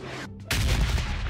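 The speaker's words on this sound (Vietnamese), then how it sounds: "với súng bắn ồn quá, mình không nghe rõ luôn mọi người ơi." Gunfire in a PUBG Mobile match, loud, dense and continuous, starting abruptly after a quieter half-second and filling the rest of the clip.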